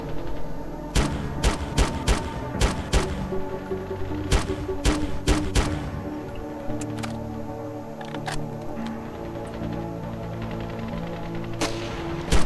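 Gunfire in the video game Ravenfield, with a string of sharp shots, some in quick bursts and others single, over a steady low battle rumble, the firing sparser toward the end.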